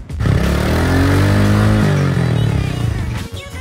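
A 2024 Royal Enfield Classic 350 Stealth Black with a BS6 Phase 2 engine runs close by with a loud, deep, steady thumping rumble that swells slightly in pitch before settling and fading at the end.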